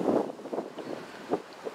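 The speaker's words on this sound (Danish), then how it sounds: "der er også meget vind" Wind blowing outdoors at a disc golf course during a tournament round, buffeting the microphone in irregular low rumbling gusts, with stronger bursts near the start and another later on, heard alone without talk.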